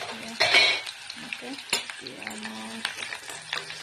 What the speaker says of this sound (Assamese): কেৰাহীত তেল গৰম হৈ গ'ল, পিঁয়াজ এটা আছোঁ সৰু চাই আৰু জলকীয়া এটা দিছোঁ।